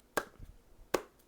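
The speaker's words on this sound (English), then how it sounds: "That's me clapping." Two sharp, isolated hand claps, close and crisp, spaced about three quarters of a second apart, with no talk.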